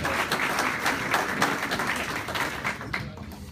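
Clapping from an audience at an alumni meeting, honoring prospective students, forms a steady, full round of applause that thins slightly toward the end, heard from a middle distance.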